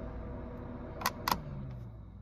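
A Saab 900 Turbo 16S radiator fan, switched on manually: two sharp switch clicks, then a low motor hum rises and settles into a steady whir under constant background noise.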